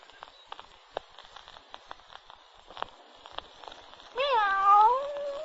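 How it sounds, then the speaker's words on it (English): Light footsteps and taps patter through a quiet room in a radio drama, then a cat gives a single long, drawn-out meow close by at the end. "Oh, there's the pussy cat."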